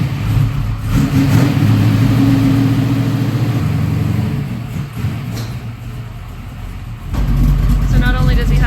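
A manual transmission car's engine runs with an uneven, lumpy idle that rises and dips, close by, and voices talk over it.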